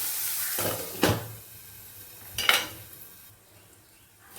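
Ginger and garlic sizzle in a hot pan while cooking Pallipalayam chicken, with two sharp bursts of frying hiss and a few utensil stirs against a quiet kitchen background.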